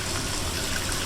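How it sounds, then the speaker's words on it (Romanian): Water poured into a pot of pork meat on the stove while making a Romanian potato and pork stew, a steady splashing gush that runs continuously and fills the whole moment at close range. "adăugăm apă"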